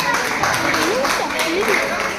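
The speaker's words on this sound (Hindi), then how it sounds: "एक बार तालियां बजाइए रेणु गुप्ता जी के लिए।" An audience at a Ghaziabad Anuvrat Samiti gathering claps steadily throughout while someone speaks over the applause.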